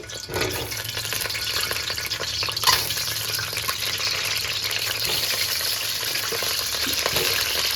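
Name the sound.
eggs frying in oil for biryani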